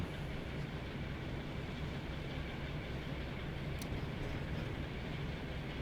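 Diesel locomotive in the Train Sim World 2 video game, Great Western diesel stock at Paddington, giving a low steady rumble and idling drone throughout, quiet and continuous with no speech.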